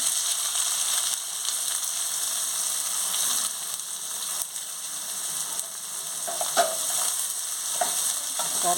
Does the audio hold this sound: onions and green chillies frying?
yes